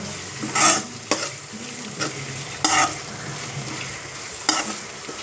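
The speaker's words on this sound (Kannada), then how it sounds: "ಟೊಮೆಟೊ ಸಣ್ಣಗೆ ಕಟ್ ಮಾಡಿರ್ತಕ್ಕಂಥ ಟೊಮೆಟೊನ ಹಾಕ್ಕೊಳ್ಳಿ" Finely chopped tomatoes frying in a pan for a sprouted-bean stir-fry, with a steady close sizzle broken by several scraping stirs of a spoon against the pan, and no talking.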